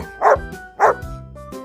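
A puppy gives two short, high barks about half a second apart, close and clear over soft background music.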